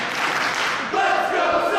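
A wrestling crowd roars in support of Sonjay Dutt, a dense, steady wash of cheering and shouts that briefly dips before surging again.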